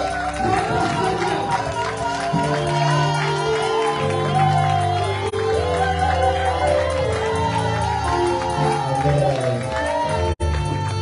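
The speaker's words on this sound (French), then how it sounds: "On acclame très très bien" A church congregation in Paris cheers and acclaims a pastor, a loud, sustained crowd roar with shouts and music, a voice speaking over it near the middle and a sharp click near the end.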